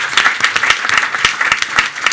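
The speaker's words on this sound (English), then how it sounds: "So yes, round of applause." Loud, dense applause from a summit breakout-session audience, steady clapping filling the whole stretch with sharp individual claps standing out throughout.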